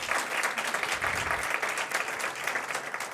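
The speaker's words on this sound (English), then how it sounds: "Give her a round of applause" A crowd at a mayoral event in Washington, D.C. applauds for a deputy mayor, steady, dense clapping from many hands that carries evenly through the whole stretch without a pause.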